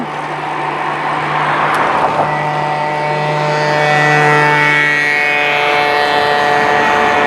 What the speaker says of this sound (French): On laisse passer les voitures.